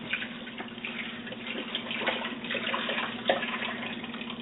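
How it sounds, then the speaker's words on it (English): Milk poured from a container into a pot on high heat for goat cheese, a continuous close liquid pour that splashes a little, heard alone with no talking. "Go ahead and pour our milk in there."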